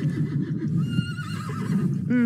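A horse in a video game neighs in a loud, close whinny that rises sharply at the end, over a bed of clip-clop hoofbeats and game noise.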